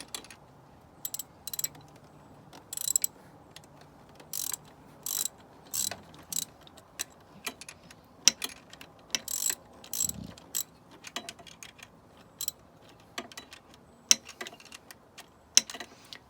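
Exhaust manifold nuts on a Mini Cooper S R56 are tightened with a ratchet, producing quick bursts of close, crisp clicking in irregular runs, separated by near-quiet pauses.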